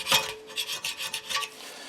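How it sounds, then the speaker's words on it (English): A metal scraper rasps old gasket material off a Farmall 560 diesel engine in about five short, close, gritty strokes. "Just taking a scraper, just kind of scraping off all the old crap."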